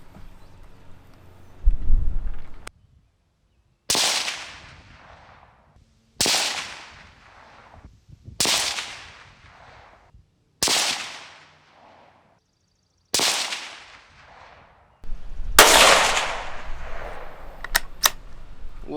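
A Ruger Precision Rimfire .22 Magnum rifle fires Hornady 30 grain V-MAX rounds outdoors: six loud, sharp shots spaced a couple of seconds apart, each with a ringing decay, plus scattered handling noise.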